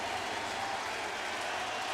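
A baseball stadium crowd at a Phillies at Cardinals game in St. Louis claps and cheers for a curtain call after a grand slam; a distant, even roar of applause holds steady throughout, with no talking.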